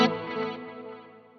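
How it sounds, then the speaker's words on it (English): A compressed clean electric guitar chord with a swirly chorus effect, an 80s studio rack tone from a Quad Cortex, strikes once and rings out smoothly, decaying over about a second and a half. "So you've got that really swirly, affected, kind of 80s compressed clean tone."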